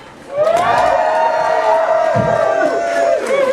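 A Comic-Con crowd in Scarborough lets out a big burst of cheering and whooping that swells quickly, holds loud and dense for about three seconds, then begins to fade.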